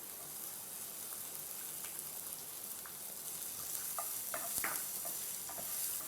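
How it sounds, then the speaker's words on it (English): Cumin seeds, chopped green chilies and onion frying in a pan, a steady close hiss of sizzling oil with faint scattered pops and crackles, without talk. "add pinch of cumin seeds, then add finely chopped green chilies and add chopped onion."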